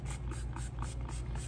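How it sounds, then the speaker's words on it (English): Exotic skin cleaner sprays onto buffalo leather boots in a rapid series of short, close hissing bursts, about six pumps in quick rhythm. "I'm gonna spray the heck out of them"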